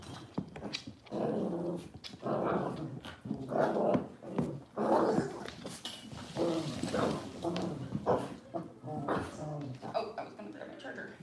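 Cavalier puppies and bigger dogs growl and bark playfully in bursts close by, while a person talks and calls to them throughout.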